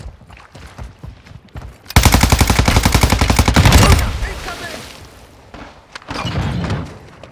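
Gunfire in the DMZ video game erupts as a loud, close automatic burst of rapid shots lasting about two seconds, followed by softer rumbling and a fainter later burst.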